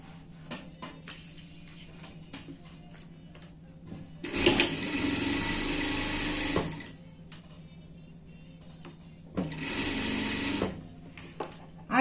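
A sewing machine stitches a seam on a dress in two clear runs, a couple of seconds each, its fast steady whirring close and loud, separated by quiet handling of fabric.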